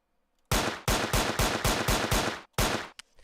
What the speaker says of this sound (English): If you walk and shoot, bullet's gonna go left and right.